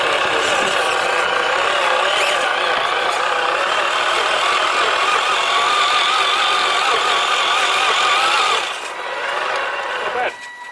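A large-scale hard-body RC car driving with its electric motor running, a steady loud whine and mechanical whir that drops off near the end.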